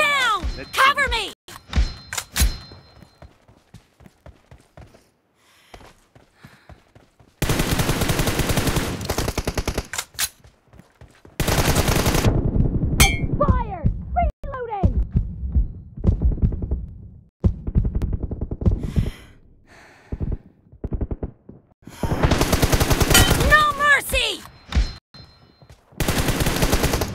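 Bursts of M4 rifle fire in the BGMI mobile battle royale, loud sustained volleys separated by short pauses and scattered single shots, with game voice callouts and chatter in between.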